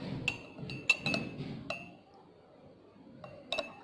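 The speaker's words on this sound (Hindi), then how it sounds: "इसमें मैं तकरीबन आधा चम्मच शहद को ऐड करूंगी और अच्छे से इसको मिक्स कर लूँगी" A spoon clinks repeatedly against a glass while stirring honey into weight-loss tea, bright ringing taps in irregular clusters, close and clear, with a quiet pause before a final pair of clinks.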